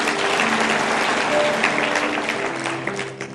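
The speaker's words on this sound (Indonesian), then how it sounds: "kasih tepuk tangan untuk Tuhan" A church congregation bursts into applause, dense steady clapping that holds for a few seconds before thinning out, with a faint held tone underneath.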